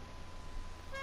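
A car horn in GTA Online gives a short tonal beep near the end, sounding over a low, continuous engine rumble.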